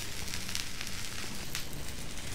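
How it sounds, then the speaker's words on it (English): Pea shoots sauteing in canola oil in a pan, a steady close sizzle and faint crackle running throughout with no talking. "While the salmon is cooking, I'm going to saute the pea shoot."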